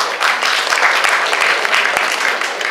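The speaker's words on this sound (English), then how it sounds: "So, big round of applause to whoever wins it." A round of applause at a fashion week press conference in Kuala Lumpur, many hands clapping loudly and steadily in a dense crackle from start to finish.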